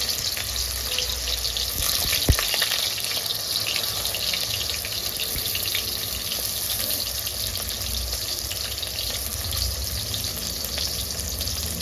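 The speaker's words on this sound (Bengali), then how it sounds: "প্রথমে নুন হলুদ দিয়ে কাঁচা কলাটাকে তেলে দিয়ে দিচ্ছি।" Raw green banana, coated in salt and turmeric, sizzles in hot mustard oil in a steady, close crackle with a faint splash near the start, heard without talk.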